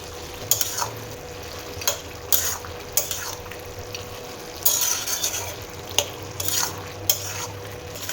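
Bottle gourd curry with lentil dumplings frying and being stirred in a pan, a soft sizzle under repeated sharp scrapes and clinks of a utensil against the pot.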